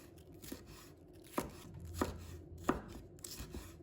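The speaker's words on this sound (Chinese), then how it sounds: "再准备半个红辣椒， 把它切成条" A knife chops through half a red chili pepper on a board, cutting it into strips with a few distinct sharp taps spaced roughly evenly, close and clear with no talking.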